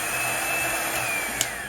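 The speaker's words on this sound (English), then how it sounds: "So on this blow dryer, I only use low." A handheld blow dryer running on its low speed setting, a steady airy whir with a faint high whine, continuous and close, with one tiny click near the end.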